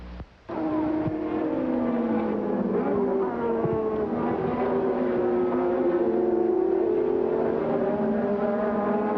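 Formula One cars racing at the 1987 Brazilian Grand Prix, their engines a loud, continuous high-pitched whine that rises and falls in pitch as they accelerate and pass, with no talking.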